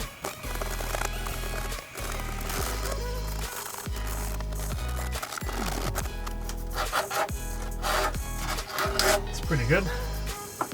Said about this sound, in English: Just need to sand a little bit where I can't get the drill.